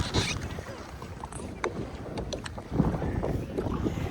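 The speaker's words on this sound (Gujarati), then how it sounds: "પવન આવ્યા રાખે છે અને જાય છે" Gusty wind buffeting close to the microphone, a rumbling, uneven roar with water splashing faintly in the background and a few brief clicks.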